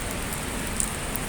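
Heavy rain pours down on a Hong Kong afternoon, a dense, steady hiss of drops with a few sharper patters striking nearby surfaces, continuous and close with no speech.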